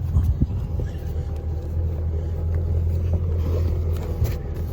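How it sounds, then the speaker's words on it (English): A 5.0 liter fuel-injected engine in a 1993 Four Winns 215 Sundowner boat idles after starting, a steady low rumble heard close, with a few clunks at the start. "So that's it, started. We're starting it up."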